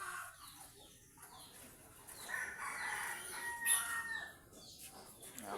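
Chickens clucking and crowing in a busy farmyard, a steady mix of bird calls with one sharper cry partway through, no one speaking.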